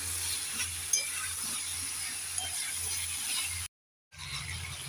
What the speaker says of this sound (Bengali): এবার নেড়ে চেড়ে সব উপকরণগুলোকে 3 মিনিট ভালো করে কষে নেব।